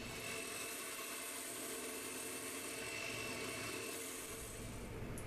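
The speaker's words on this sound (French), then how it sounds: "on va battre le tout avec notre batteur électrique à vitesse réduite" An electric hand mixer on low speed beats crème fraîche with icing sugar for honey ice cream, giving a steady, even whirring drone that stays fairly quiet and unbroken throughout.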